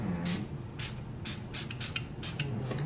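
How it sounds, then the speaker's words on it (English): Makeup setting spray mists out in a string of quick pumps, each a short breathy hiss, some single and some in fast pairs, close and fairly loud. "I know most of you aren't used to me using a setting spray"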